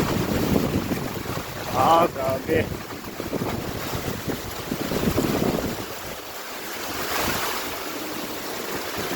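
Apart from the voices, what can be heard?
strong wind and heavy rain during typhoon Kristine flooding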